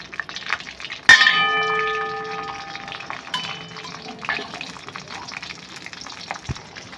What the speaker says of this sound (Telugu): సో జీడిపప్పు అలాగే కిస్మిస్ పాలు కూడా ఫ్రై చేసేద్దాం